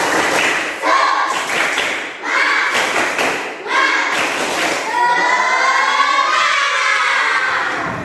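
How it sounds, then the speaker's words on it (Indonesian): Primary school class doing a rhythmic spirit clap, bursts of group claps and thumps in a patterned beat mixed with children chanting and shouting in unison, ending in a rising cheer. "Kita tepuk semangat ya. Oke, tepuk semangat."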